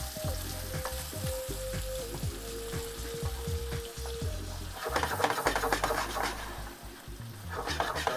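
Creme fraiche being stirred into a frying pan for prawn linguine, the pan frying and sizzling steadily throughout with scraping stir strokes growing louder and busier in the second half, close up with no talk.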